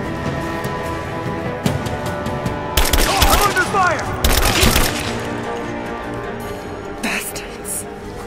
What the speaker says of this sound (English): He's there! Open fire!